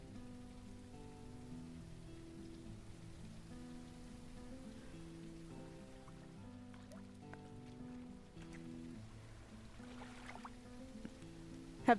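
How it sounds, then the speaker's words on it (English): Rain falls in the video game Arkem, a soft, steady patter heard faintly beneath quiet sustained background music tones, with a brief knock at the very end. "We have rain!"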